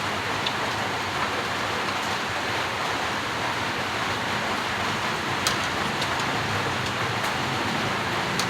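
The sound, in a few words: rain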